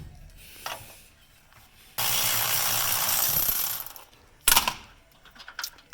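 A wrench ratchets on the bottom brake caliper bolt of a Chevy Silverado, with a few faint clicks, a sustained loud rasping burst of ratcheting, then a sharp metallic clank and scattered small knocks.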